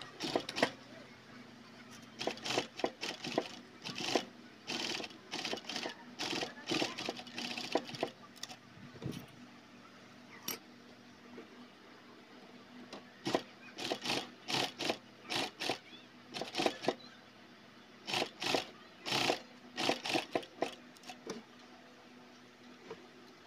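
A sewing machine stitches a fabric face mask closed, running in repeated short whirring bursts separated by brief pauses, fairly quiet and close, with no talk over it.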